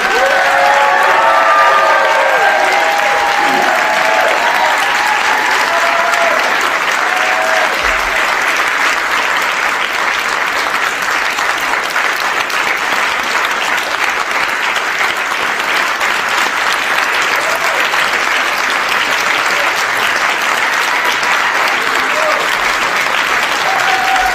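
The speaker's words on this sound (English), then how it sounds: "A lot of claps." Sustained applause from a large crowd claps steadily throughout, dense and loud, with faint murmuring voices mixed in near the start.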